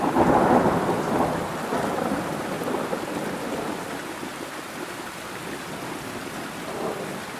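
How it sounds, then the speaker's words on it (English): Storm thunder rumbles low and steadily, loudest at the start and slowly fading, mixed with a continuous hiss of rain falling on surfaces, with no voices. "Thunder rumbles across the sky."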